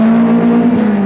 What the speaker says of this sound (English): Steve Cox sorting out that downhill left-hander, setting it up through the sort of corner that rally drivers love